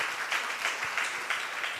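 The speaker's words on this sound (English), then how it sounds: "Big round of applause again for them." Steady applause from an audience at the grand opening of a Hindu temple and community centre in Oxford, a dense wash of many hands clapping at moderate volume without pause.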